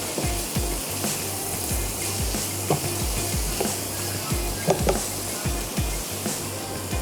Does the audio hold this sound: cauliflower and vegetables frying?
yes